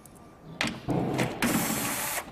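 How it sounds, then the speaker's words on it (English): A power screwdriver undoes the bolts on a Clearview towing mirror fitted to a Toyota LandCruiser 200 Series, whirring in a few short close bursts with brief pauses between them. "I've got a power screwdriver, which just makes our life simple."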